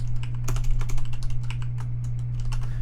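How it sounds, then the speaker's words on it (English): Fingers typing on a computer keyboard, a quick irregular patter of close key clicks over a steady low electrical hum, with no talking. "You're going to want to type in your DLL file."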